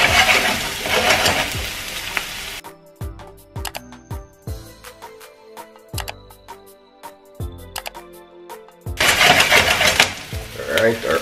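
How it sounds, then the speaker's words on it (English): Onion sautéing in a pan hisses with a steady, loud sizzle at the start. Tonal music takes over the middle, and the frying sizzle returns strongly at the end. "Saute this onion off until translucent for about 1 minute."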